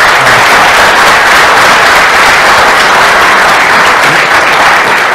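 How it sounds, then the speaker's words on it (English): Loud, close applause from an audience at an economics panel forum, a thick uniform wash of clapping sustained without pause. "One big round of applause to him."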